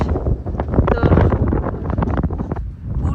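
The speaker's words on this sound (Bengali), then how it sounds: "অনেক বাতাস" Strong wind blows across desert sand dunes near the sea, roaring and buffeting the microphone loudly and continuously, with faint voices underneath.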